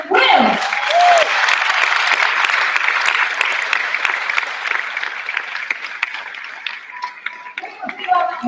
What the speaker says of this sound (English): So a big round of applause, and please come on the stage